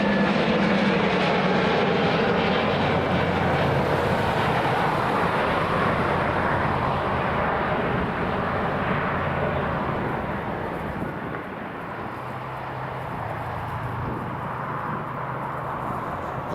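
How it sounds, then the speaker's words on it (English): A Vueling airliner on its takeoff run from Dublin Airport, bound for Barcelona: a loud, sustained broadband jet roar that holds steady for most of the stretch, then eases slightly as it climbs away, with no talking. "VY8721 departing us from Dublin International heading over to Barcelona"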